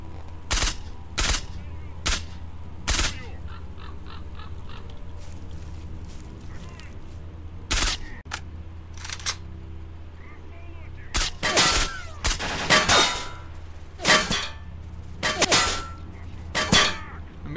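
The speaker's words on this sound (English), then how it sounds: "Being shot at, but I don't see from where." Gunfire in the STALKER video game: sharp, loud shots in irregular bursts and single cracks, some close together in quick volleys, with quieter stretches between and occasional talk.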